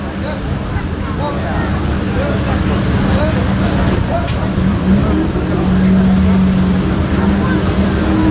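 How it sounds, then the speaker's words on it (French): A 2-litre Porsche 911 T rally car is arriving at a checkpoint of the historic Monte-Carlo rally, its engine a steady low rumble under wind noise, with a commentator talking over it throughout. "Devrait arriver maintenant une Porsche 2 litres 4 version T 911 que l'on accueille ici même pour le pointage"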